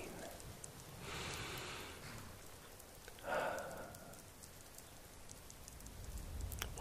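Soft patter of rain falling outside the city of Riften in the video game Skyrim, a quiet steady hiss with a couple of brief louder swells of drops.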